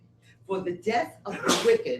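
A single sharp sneeze bursts out in the middle of a man's spoken reading during a Mishnah study session, with his talk running before and after it.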